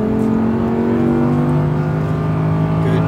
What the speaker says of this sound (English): Now start to accelerate through the S's and go